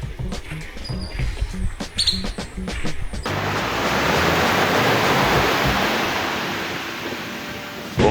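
Caribbean Sea waves breaking offshore at Zapatilla island, a national park off Panama: after some clatter and handling noise, a broad steady roar of surf washes on alone, slowly swelling and easing.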